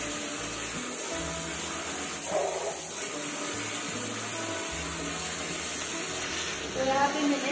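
Hot and cold tap water running together into a bucket for a hair wash, a steady broadband rush through the whole clip with a couple of brief louder splashes, heard alone.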